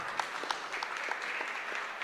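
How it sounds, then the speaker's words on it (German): An audience at a salon talk event claps for about two seconds in a short, moderate burst of overlapping hand claps. A few sharper claps stand out from the rest. "Ein Klatschen, ja, es sei erlaubt."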